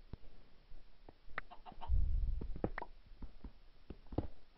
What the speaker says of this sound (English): I think a chicken just laid an egg